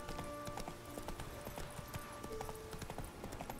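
Horse hooves clip-clop steadily in The Witcher 3, a continuous rhythmic trot under dense game ambience with background music.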